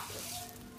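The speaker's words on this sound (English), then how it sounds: "Look at it sizzle." An egg fries in a frying pan, giving a brief, steady, soft sizzling hiss with no talk.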